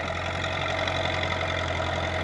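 A rebuilt Caterpillar D4 bulldozer engine idles steadily and evenly, a continuous low diesel rumble with a faint knocking texture heard up close, with no voices over it.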